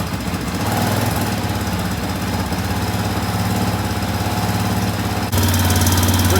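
Rebuilt Arctic Cat 400 ATV engine idling with an electric choke, a steady close, loud rumbling putter with faint valve tap, the tone shifting and getting louder near the end.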